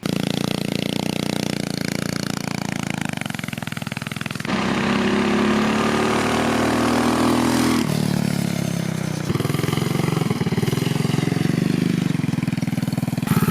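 A small motorized engine fitted to a Ford F150 Power Wheels ride-on runs continuously, buzzing and droning with a slipping clutch and high gearing, its pitch shifting as the revs rise and fall, loud and close throughout.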